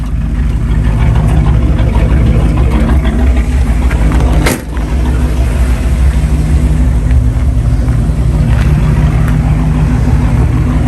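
Retro car engine idling after an exhaust leak was fixed by tightening the bolts, a loud, steady low rumble with no ticking, continuous and close throughout, with only a brief dip partway.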